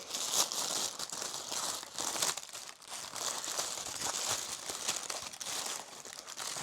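A crinkly plastic package is torn open and handled, with loud, continuous crumpling and crinkling close up and brief tearing bursts, and no talk.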